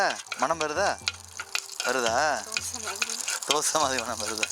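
Urad dal and dried red chillies sizzle and crackle steadily in hot oil during a tempering for sundal, a continuous close frying hiss under a person speaking throughout.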